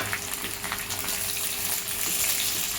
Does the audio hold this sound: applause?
no